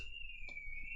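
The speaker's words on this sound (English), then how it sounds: "that's the burglar alarm of the flats opposite me." Burglar alarm ringing from a block of flats across the way, a continuous high steady electronic tone heard at a distance, faint over low room noise.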